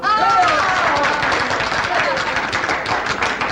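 A crowd claps and cheers for a woman welcoming back a downed airman, a dense, steady wash of applause at close range with a voice rising briefly over it.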